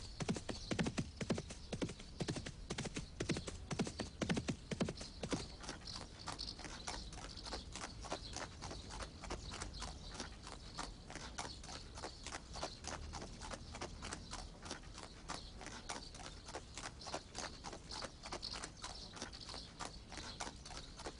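A horse walks with steady, rhythmic hoof clip-clops throughout, a few heavier thuds early on and a neigh or whinny, heard fairly close and with no talk over it.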